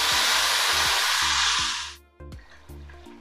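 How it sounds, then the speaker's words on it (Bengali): Spice paste with garam masala and turmeric hits hot oil in a pan for vegetarian tel potol, giving a loud, steady sizzle for about two seconds that then drops sharply, followed by a few brief sputtering bursts. "মশলাটা আমি কষাতে দিলাম।"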